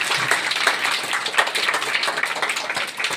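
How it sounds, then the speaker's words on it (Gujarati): Audience applause welcoming 17 young children at a village school event, a steady crowd of hands clapping in a busy, uneven patter throughout, moderately loud and close, with no speech over it. "જોરદાર તાળીઓથી વધાવીએ છીએ"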